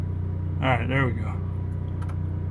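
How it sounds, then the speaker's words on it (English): Generator on a 1994 Fleetwood Jamboree RV built on a Ford E-350 chassis running with a steady, low droning hum, while a voice speaks briefly over it. "I'm gonna turn on the generator."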